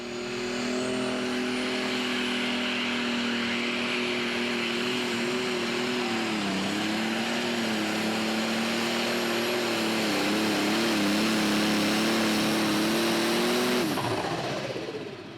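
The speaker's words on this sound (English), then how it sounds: "I love to hear those turbos chirp as they spool down" Super modified pulling tractor at a Pro Pulling event makes a loud, sustained turbocharged engine roar with a wavering pitch throughout its run. Near the end the engine cuts and drops away, and the turbos chirp as they spool down.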